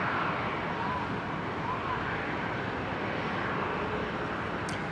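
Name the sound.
airplane taking off from Runway 19 right at Brisbane Airport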